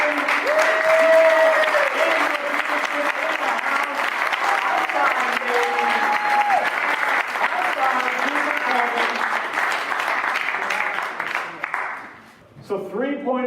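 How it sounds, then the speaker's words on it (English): Audience applause at a product unveiling: sustained, loud clapping from a large crowd fills the room for about twelve seconds, with faint cheers inside it, then dies away as a voice begins speaking. "So round of applause for Larry."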